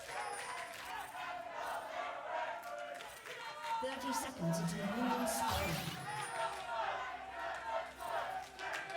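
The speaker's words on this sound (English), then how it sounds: "It's a rowdy crowd." A loud, rowdy crowd at a live League of Legends esports match between Team Liquid and TSM in the LCS arena, cheering and shouting continuously under a caster's commentary.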